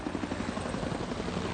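A helicopter in the video game Civilization VI, a continuous rotor chop with a dense, steady whir throughout, fairly loud and alone without talk.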